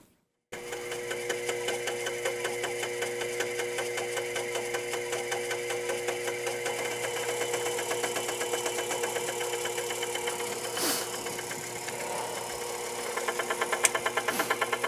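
A metal lathe turns faceplate-mounted work with the piece far out at the edge, making an interrupted cut. It gives a steady, loud mechanical drone with a rapid rhythmic knock from start to finish and no talking.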